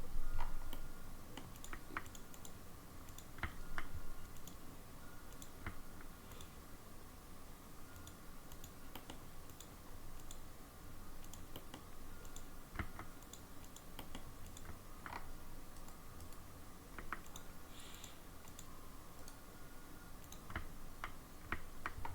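Close, steady keystrokes on a computer keyboard in a refreshed home workspace, with irregular clicks and taps running through the whole stretch over a faint background hum, and no voices.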